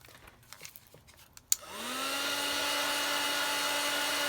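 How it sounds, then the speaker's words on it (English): A heat tool clicks on and settles into a steady, loud whirring blow as it dries bronze-coloured ink on a chipboard tile. A few soft handling taps come before it starts. "now what I'm going to do is just quickly dry that with the heat tool again"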